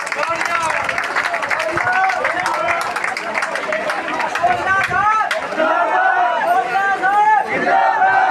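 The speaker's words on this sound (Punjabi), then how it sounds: "ਇੱਕ ਵਾਰੀ ਤਾੜੀਆਂ ਮਾਰ ਕੇ ਉਹਨਾਂ ਦਾ ਸਵਾਗਤ ਕਰ ਦਿਓ" Rally crowd clapping and cheering loudly to welcome a guest, continuous mixed applause with voices and shouts throughout, dense and close.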